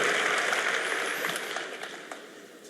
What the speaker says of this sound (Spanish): Vamos a darle un aplauso por favor aquí a mi amigo